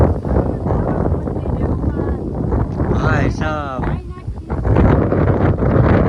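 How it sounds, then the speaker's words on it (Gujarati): Strong wind during rain buffets the microphone in rough gusts throughout, while someone speaks over the blustery noise. "આમ પવન લાઈવ છે વરસાદ આવડો આપણે પવન બહુ સારો આવે"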